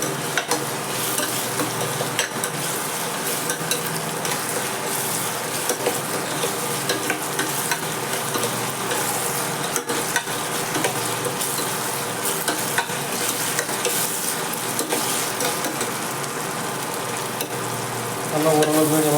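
Taro, cluster beans, drumstick, beans and capsicum sizzle steadily in a pan as they are stirred, a continuous close frying hiss with soft scraping and no talk.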